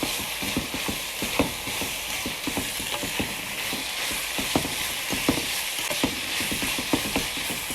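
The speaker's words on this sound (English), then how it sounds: "I'm going to mix this and cook it for another 5 minutes." Onions, garlic, peppers and spices being stirred and fried in a pan, with a steady sizzle underneath repeated scraping clicks of a utensil against the pan, close and continuous without speech.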